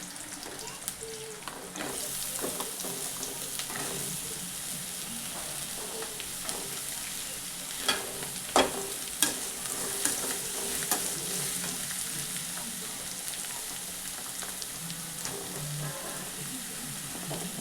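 Ridge gourd and onions frying in a pan for a gravy, a continuous soft sizzle with repeated scraping and clacking stirs, a few sharper knocks midway, close and without speech.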